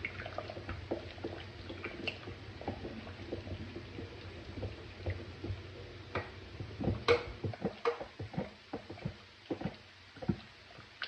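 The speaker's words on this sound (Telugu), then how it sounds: "ఈ పప్పు గుత్తో స్మాష్ చేస్తున్నానండి." Cooked dal for sambar being mashed with a wooden masher, giving a string of soft, wet squelches and thuds in an uneven rhythm, close and moderately loud, with no talking.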